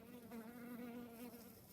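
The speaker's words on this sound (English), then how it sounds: "Herding bees." Honeybees outside a hive in winter make a continuous, faint droning buzz at close range, with no voices over it.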